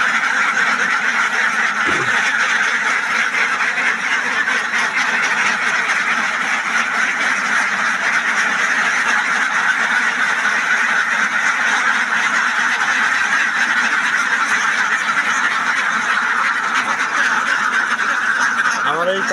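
A flock of farm ducks being taken out to forage in harvested rice fields quacks and honks steadily and loudly, with the calls overlapping throughout.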